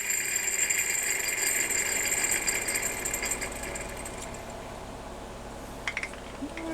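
A Homelite Super XL-925 chainsaw running low on fuel gives a steady, rattling two-stroke buzz that eases off after a few seconds, with a few sharp clicks near the end.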